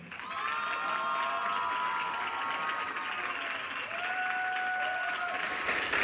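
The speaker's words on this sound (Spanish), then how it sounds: "Fuerte el aplauso para Kenia Cuevas." An audience claps and cheers for a speaker at a live event, sustained broadband applause with scattered whistles and shouts rising over it, holding steady for several seconds.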